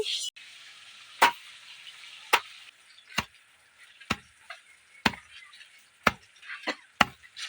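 Fish fries in a pan for kalai dal with a faint steady sizzle. Sharp clacks, likely a spatula hitting the pan, repeat about once a second.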